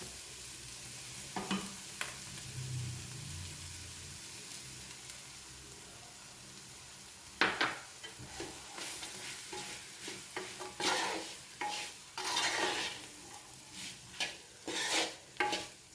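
Garlic and chili powder stirred in a pan on low heat for garlic pickle, with a gentle sizzle throughout and irregular spoon scrapes against the pan that grow louder and more frequent in the second half.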